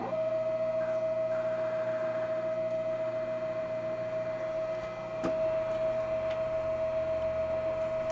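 A milling machine cuts a square-bottomed hole with a 3/8 inch end mill in a fixture plate for a vacuum chuck, giving a steady high whine over a constant motor hum with a brief dip midway.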